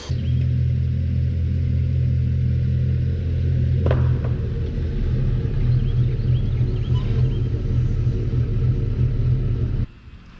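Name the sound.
lifted Ford F150 truck being driven out of the shop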